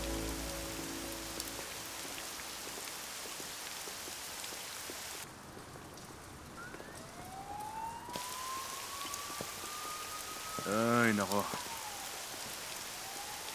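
Heavy rain pouring down in a steady, dense patter throughout, with a siren rising and wailing partway through and a brief exclamation from a voice.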